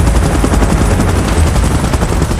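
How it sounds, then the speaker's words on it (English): A helicopter holds position during a video game evacuation, its rotor throbbing as a loud, dense, continuous roar that fills the whole stretch with no speech. "Chopper in position."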